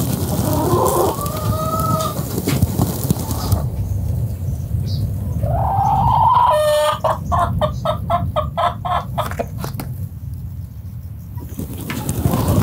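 Chickens cluck steadily in a coop while a rooster lets out several loud, close crows, layered over a constant farmyard background.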